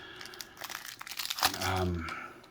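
Weiss Schwarz Cinderella Girls trial deck packaging is torn open with a crinkling rip of plastic wrap, close and moderately loud, while a voice speaks over part of it.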